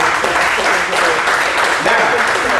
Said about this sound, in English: I will ask you to clap your hands